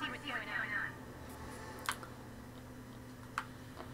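A phone menu opening in the video game South Park: The Fractured But Whole, heard as a couple of short, crisp digital clicks spaced apart over low background game ambience, following a brief stretch of speech at the start.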